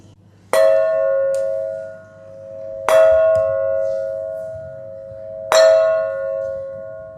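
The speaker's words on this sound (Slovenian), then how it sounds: "Glas zvona pa se je razlegal po vsej dolini." Three loud, evenly spaced church bell strikes, each ringing out with a long sustained hum that slowly fades before the next toll, echoing across a valley.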